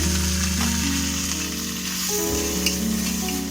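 Garlic, ginger and chopped tomato frying in a pan for egg biryani, a loud steady sizzle under a continuous droning hum, with a faint stir or two and no talking.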